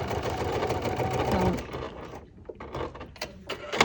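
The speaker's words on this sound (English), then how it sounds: "we'll just stitch it on the opposite side" A sewing machine stitching the seam of a small fabric mini charm bag, running in a close, steady whir for about two seconds before stopping, followed by a few soft handling clicks and knocks.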